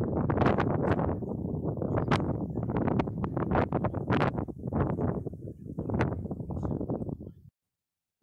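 Strong gusting wind buffets the microphone outdoors in Colorado, a loud continuous roar with surging gusts for about seven seconds before cutting off abruptly.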